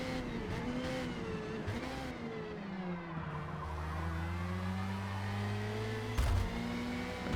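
A Formula Mazda race car engine in Forza Motorsport at Indianapolis Motor Speedway holds a steady, high, buzzing drone throughout, with pitch gently wavering as the car runs at speed and a short bump near the end.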